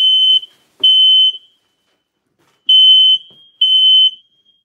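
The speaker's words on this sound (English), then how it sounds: "I got my fire alarm. That happens all the time." A home smoke alarm goes off indoors in four loud, piercing beeps, two quick ones, a pause, then two more, with silence between.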